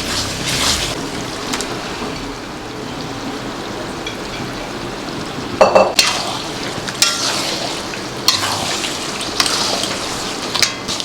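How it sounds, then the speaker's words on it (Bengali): Mutton dropped into spices frying in released oil in a pan, a continuous crackling sizzle with a few sharp bursts and scrapes as pieces go in and get stirred, close and fairly loud, no talking. "মশলা থেকে তেলটা ছেড়ে দিয়েছে এইবার মটনটা দেবো"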